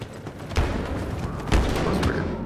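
Proximity bombs in Star Wars Battlefront on the Palace Garage map of the Outer Rim DLC: several heavy booms and bursts go off in quick succession over a dense roar of battle noise, loud and close.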